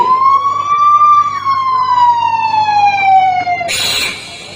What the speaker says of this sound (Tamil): ஆம்புலன்ஸ்ல போயிட்டு இருக்கான்